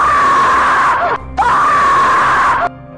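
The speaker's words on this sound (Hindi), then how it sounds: "तभी पीछे से किसी के चिल्लाने की आवाज आई।" A person screaming in a frightening way, heard as two long sustained loud shrieks with a brief break between them, set in a dark forest scene.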